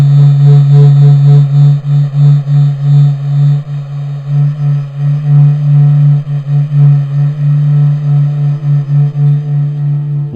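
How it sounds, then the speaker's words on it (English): Sonified NASA SOHO data from the Sun, a deep low hum that pulses in a slow, irregular beat, steady and fairly loud, with faint upper overtones and no voices. "What you just heard is the heartbeat of the Sun, captured by NASA's Solar Heliospheric Observatory."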